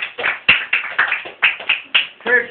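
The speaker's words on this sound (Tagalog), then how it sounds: "Pumalakpak po ang mga anak ng Diyos." A church congregation claps in a quick, uneven burst of about ten sharp hand claps, close and fairly loud, with no talking over them.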